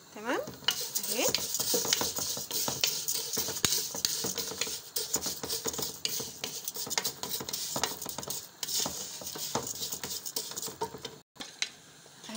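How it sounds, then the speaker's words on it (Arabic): Vermicelli frying in strained oil for an Egyptian dish while a utensil stirs it in the pan, a constant close sizzle broken by frequent scraping and clinking stirs. "هروح نازله هنا بالشعريه احمرها"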